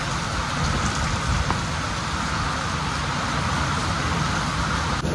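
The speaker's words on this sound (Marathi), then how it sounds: "बघा कसला पाऊस चालाय, मुसळधार पाऊस चालू" Heavy rain pours steadily, a dense continuous roar with no pauses and no voices.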